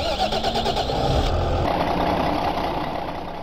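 In Farming Simulator 2015, a truck engine cranks with a quick rhythmic chatter, catches and settles into a steady, close idle rumble.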